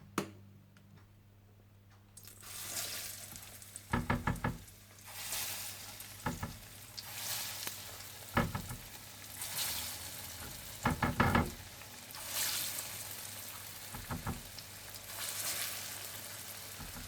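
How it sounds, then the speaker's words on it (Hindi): Egg-dipped, breadcrumb-coated potato cutlets shallow fry in hot oil with a quiet, continuous sizzle, broken by several short bursts of spattering and scraping as they are moved in the pan. "तेल गरम कर लीजिए और इन्हें शैलो फ्राई कर लीजिए।"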